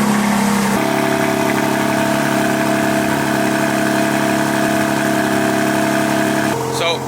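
A BMW G82 M4 with catless downpipes and no mid-pipe idles loud and close, a steady, raspy exhaust drone that holds throughout before a brief change at the end.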